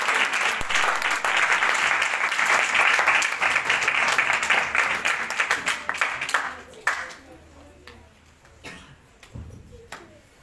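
Church congregation applauding at a Hindi-language Christian service as a preacher is welcomed to the stage, dense loud clapping that swells then thins out over the last few seconds, with voices mixed in.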